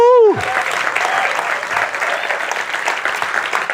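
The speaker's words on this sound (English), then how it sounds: "giving a round of applause for the audience, for everyone sitting there" Audience applause at an education innovation summit award ceremony, a full steady clapping wash following a brief vocal whoop at the start.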